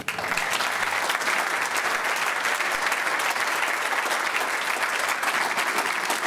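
Sustained applause from a large audience at a political party's federal council meeting, loud, dense and unbroken from start to finish.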